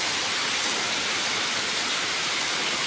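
Heavy, unbroken rain pours down on coastal Karwar in Karnataka, a dense, loud wash of noise with no pauses or gaps.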